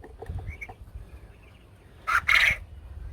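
Young quail on a farm giving two short, bright crowing calls close by, the second longer and louder, after a few faint chirps over quiet background.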